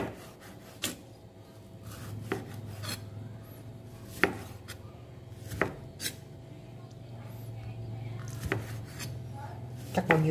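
Knife chopping tomatoes and pineapple on a cutting board in a home kitchen, with scattered sharp taps and knocks at an irregular pace over a low steady background hum.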